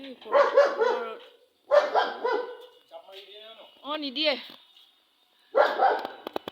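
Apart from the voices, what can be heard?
dog barking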